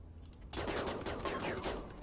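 A firing squad opens fire in the colony game Rimworld, a sudden dense volley of overlapping gunshots erupting after a brief lull and rattling on steadily, loud and close with no talk.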